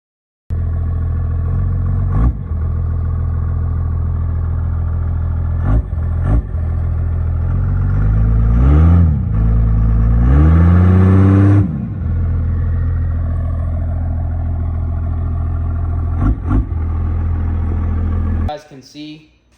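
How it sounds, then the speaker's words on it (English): A 12 valve diesel engine in a truck idles with a steady, loud low rumble, revving up twice in quick swells midway before settling back to idle, then cutting off near the end. "I ended up building a pretty awesome 12 valve for this truck."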